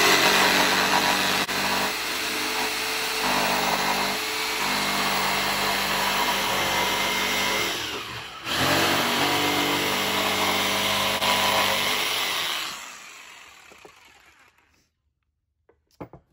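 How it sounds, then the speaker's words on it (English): A jigsaw cuts wood for cornhole board legs, giving a loud, continuous buzzing whine with a brief dip partway through. The saw runs alone for about twelve seconds, then fades out and stops, followed by a few small knocks. "Next, I'm going to use my jigsaw, making sure that it's flat on the wood."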